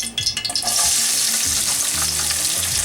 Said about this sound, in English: Oil is now hot, and I'm going to put this onion.